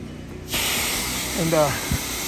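A pressure washer sprays a steady broadband hiss while rinsing down a house during a mold-cleaning house wash, starting abruptly after a short quiet moment and running continuously, with a brief voice underneath.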